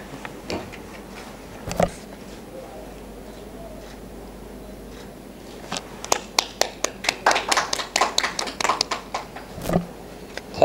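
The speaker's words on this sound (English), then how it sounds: "Please have a round applause." Scattered hand claps from an audience at a job recruitment event, starting sparse and then building into a brief burst of clustered clapping, with faint murmuring and room noise underneath.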